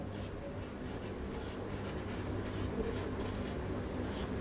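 Chalk or marker scratching across a classroom board during a Hindi-language reasoning lesson on clocks, a steady continuous rubbing texture lasting the whole stretch at moderate, close level with no talking.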